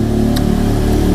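Motorcycle engine with a torque-tuned crankshaft and modified block, running steadily at moderate revs with a continuous loud mid-pitched drone and faint mechanical ticks, close up and with no voices.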